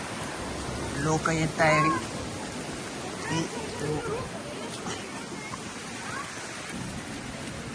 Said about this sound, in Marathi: तुम्ही बघू शकता इकडून पाणी चाललंय धो धो धो धो.